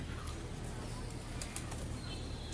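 A pigeon on a rooftop flaps its wings in a brief fluttery burst, with faint bird calls over steady outdoor background noise. The sound is low and somewhat distant.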